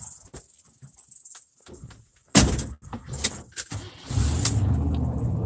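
Pickup truck nearby with door and key clatter followed by the engine catching and a steady rumble as it pulls away, with a high whine throughout and some rustling movement; no clear talk.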